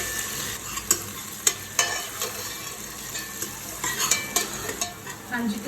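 Chopped onions frying in a spiced tempering for a pumpkin and vadi curry, a soft continuous sizzle punctuated by repeated sharp scrapes and taps of a spoon stirring the pan.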